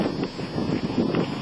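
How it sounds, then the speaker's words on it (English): Wind buffets a microphone outdoors, a steady low rumbling roar with uneven gusty swells that fills the whole short stretch, with no voices over it. "the wind picked up"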